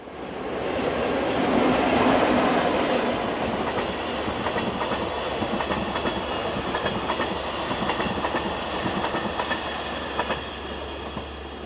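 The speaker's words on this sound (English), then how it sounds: "westbound Glacier Express trains from St. Moritz to Zermatt appears from around the corner" A westbound Glacier Express electric passenger train rumbles closer, wheels clicking steadily over rail joints, loud and continuous with a low hum beneath and occasional squeals.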